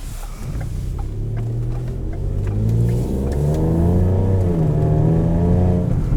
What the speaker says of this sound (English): You can definitely hear that little exhaust leak.